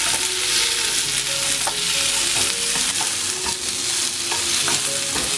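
Chopped onion and tomato sizzle and fry in a hot pan for a chicken curry, a continuous loud crackle with occasional scraping stirs from a spoon, no voices.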